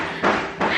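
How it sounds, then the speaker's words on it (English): Two dull hammer blows land in quick succession during floor work in a back room, sounding muffled and somewhat distant, with no voices. "Clearly with all the hammering in the back."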